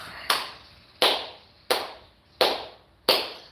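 Five sharp, single claps ring out at an even, unhurried pace, each with a short decaying tail, with nothing else in between.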